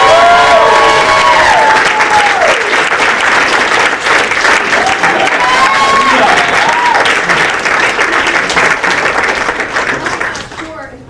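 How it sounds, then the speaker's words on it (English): A theater audience at a school play claps loudly for the seniors, thick continuous applause with some whoops and cheering voices, slowly fading at the end. "Give it up for the seniors."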